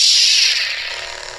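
Crimson Dawn Banshee lightsaber from SabersCrucible igniting with an unstable blade sound font: a loud, bright crackling burst that surges at once and then settles into a steadier sizzling hum, heard alone.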